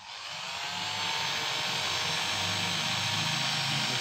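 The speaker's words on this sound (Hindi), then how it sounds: "मोटर चालू हो गया है और स्लोली चालू है" Hair dryer motor spinning up and running steadily, a loud close whooshing whir of blown air with a faint motor hum underneath, no talking.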